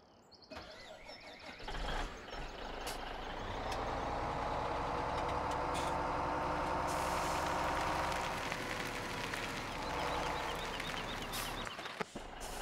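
A truck in the Farming Simulator 17 video game drives along with a steady engine drone that swells and holds, a squeal and hiss at the edges, no voices over it.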